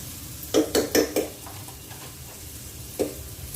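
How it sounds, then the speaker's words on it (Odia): Onions fry in a pan toward golden for a crab and potato curry, giving a low sizzle broken by a quick run of four clattering stirs against the pan and one more knock near the end. "ପିଆଜ ଟିକେ ଗୋଲ୍ଡେନ୍ ହେଲା ପର୍ଯ୍ୟନ୍ତ ଏମିତି ଭାଜି ଦରକାର।"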